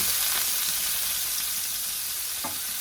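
Onions frying in a pan for chicken cacciatore make a loud, continuous hiss and crackle close by, with a couple of faint stirring knocks.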